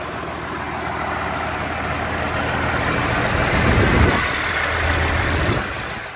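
A 1986 Chevrolet K3500 pickup with a swapped-in 12-valve Cummins diesel idles steadily with no throttle, a loud continuous rumble that swells slightly midway before easing off.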